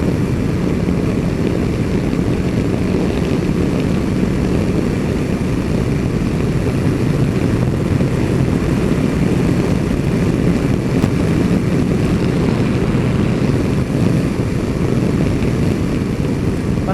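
A Yamaha Tracer 900 GT motorcycle of about 850 cc is being ridden, with a loud, steady engine drone and wind rush that runs unbroken the whole time and carries no talk.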